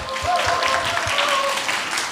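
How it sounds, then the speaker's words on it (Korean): A church congregation claps together through a Sunday service, a dense, even round of applause with a faint tonal hum running beneath it. "박수 한번 쳐주세요."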